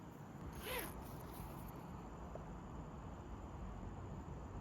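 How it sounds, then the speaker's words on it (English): A YKK zipper on the vestibule of a Snow Peak Alpha Breeze tent, zipped once in a short, brisk rasp near the start, then a steady quiet hiss of background noise with no talk. "As for the zippers on the vestibule, these are YKK zippers"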